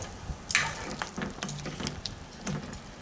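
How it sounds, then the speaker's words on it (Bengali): Mango and semolina sweets simmering in sugar syrup over a medium flame, with faint bubbling and sizzling, a few soft clinks and a quiet stir, all low and close. "মিডিয়াম ফ্লেমে ফুটতে দিচ্ছি, যাতে চিনির রসটা ভালোভাবে মিষ্টির মধ্যে চলে যায়"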